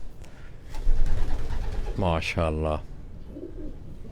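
Racing pigeons cooing close by in a Quetta loft, a couple of soft throaty coos rising over room noise while someone speaks briefly.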